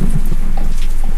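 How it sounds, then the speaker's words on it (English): Steady rain falls in the horror video game Ghost Study, a loud, dense, continuous patter with low rumbling underneath, alone without voices. "It's just rain."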